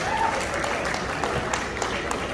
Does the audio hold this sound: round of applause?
yes